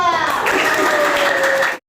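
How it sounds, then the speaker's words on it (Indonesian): Children in a classroom applauding together for a group during a team learning game, a steady burst of clapping and young voices lasting about two seconds before stopping abruptly. "Tepuk tangan untuk kelompok 2"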